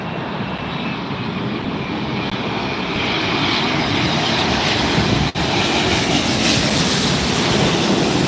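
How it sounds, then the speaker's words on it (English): A KLM jet airliner, a 777 or 787, passing at LAX, a loud, steady roar of engines throughout with a broad rushing noise, no voices. "Looks like a KLM. Might be a 777 or a 787."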